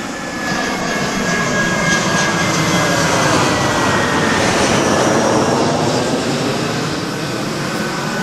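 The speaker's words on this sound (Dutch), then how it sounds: "De vliegtuigen die vliegen heel laag over." An airplane flies low overhead near the airport on Rhodes, its engine roar loud and sustained throughout, swelling slightly as it passes close above, with no voices.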